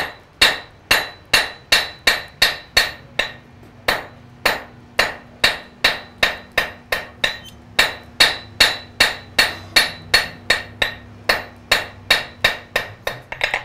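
A blacksmith hammers a nail taper on an anvil: about thirty sharp, ringing metal strikes in a fast, steady rhythm, with a few brief pauses, loud and close with no talking.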